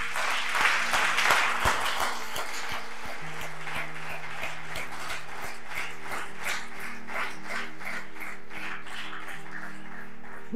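A congregation at a Sunday worship service in Godomey applauding, a burst of clapping that settles into steady rhythmic claps over a sustained musical drone, with faint voices beneath.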